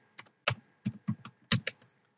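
Keystrokes on a computer keyboard while entering HTML list-style code, a handful of distinct clacks in short irregular bursts, close and fairly crisp with quiet gaps between them.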